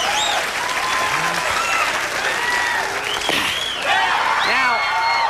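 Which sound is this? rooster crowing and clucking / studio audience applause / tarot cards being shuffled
studio audience applause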